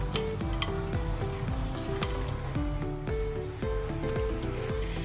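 Chicken is mixed with marinade and green chillies for Hyderabadi chicken dum biryani, a steady wet squelching and stirring with repeated light clinks of a utensil against the bowl, close and continuous throughout.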